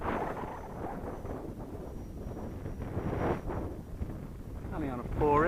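Low, blustery wind buffets the microphone continuously, with rumbling gusts throughout and a faint whine rising near the end, outdoors with an Eclipsons Cobra 64mm EDF model jet on a 4S battery.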